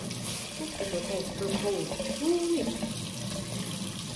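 Water runs steadily from a tap into a home sink while dishes are washed, close and continuous, with a person talking over it.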